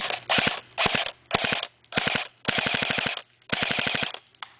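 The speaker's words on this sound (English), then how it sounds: "And then we're going to switch to automatic. Show you how fast it fires." A D-boys M4 airsoft gun fires on full automatic in six sharp bursts of rapid clacking shots, loud and close, separated by short pauses.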